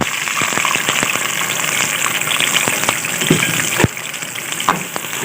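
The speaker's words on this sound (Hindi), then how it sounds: "ऑयल हमारा गर्म हो चुका है। अब हम इसमें प्याज डाल देंगे।" Onions frying in hot oil in a pan, a steady close sizzle and crackle with occasional stir clatter, no talking.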